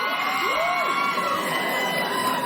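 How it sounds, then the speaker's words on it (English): A live studio audience at a Saturday Night Live sketch cheers and whoops, a dense steady roar of crowd noise with a few high shouted whoops rising above it, heard through a played TV segment. "Just listen to how the crowd reacted."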